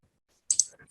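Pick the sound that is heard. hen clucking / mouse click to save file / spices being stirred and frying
mouse click to save file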